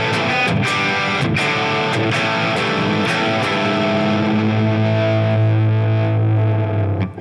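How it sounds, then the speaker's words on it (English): A distorted Les Paul electric guitar played through an old Marshall amp rings out loud and alone, with dense sustained chords and notes held over a steady level and no talk. "Les Paul onto a Marshall."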